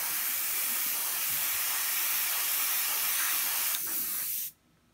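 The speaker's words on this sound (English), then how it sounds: "So I've got a dark grey in my airbrush, any dark grey will do" An airbrush loaded with dark grey paint sprays a steady, close airy hiss for several seconds, then cuts off abruptly into near silence, with no talking.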